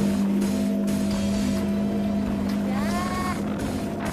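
A racing boat's engine drones steadily and loudly throughout, close by, with a strong low hum, while a person talks over it.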